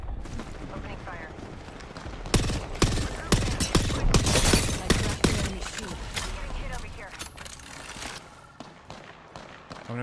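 Loud video-game gunfire erupts in rapid bursts and volleys, close and dense through the middle, while players talk over the shooting.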